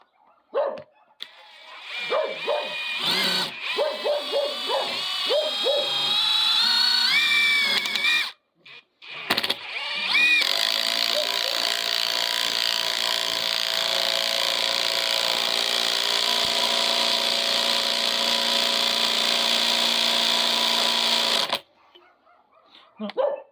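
Impact wrenches from Makita, Einhell and an unbranded Chinese maker rattle and whine in long, loud bursts. A few short hammering starts come first, a brief gap follows, then a sustained run, with some talking early on.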